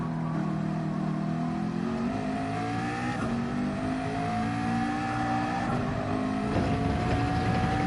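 A race car engine in Gran Turismo 7 held flat out during an online daily race, a loud, continuous high-revving whine with steady rising harmonics and no pauses.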